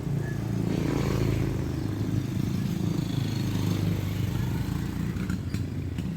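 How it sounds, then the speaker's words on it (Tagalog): A motorcycle engine drones steadily on a road, loud and close, its rumble holding throughout with some clatter and no speech. "Meron pa isang motor"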